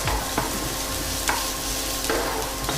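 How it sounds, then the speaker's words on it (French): Finely chopped shallots sauté in a pan over moderate heat, giving a steady soft sizzle with a few faint stirring scrapes and clicks, no voices. "je vais faire revenir en fait mes échalotes que j'ai coupées en tout petits morceaux. Voilà, sur un feu pas trop fort."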